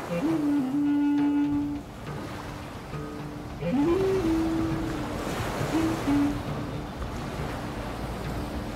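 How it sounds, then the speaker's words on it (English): Ocean waves rolling in at the Durban beachfront on a morning with surfers out, a continuous wash of surf and wind noise with tonal whistles or calls drifting faintly over it. "Surfers are enjoying a lovely morning on the Durban beachfront with a nice shape to the wave."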